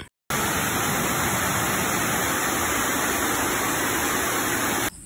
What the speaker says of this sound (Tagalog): maririnig mo yung lagaslas ng tubig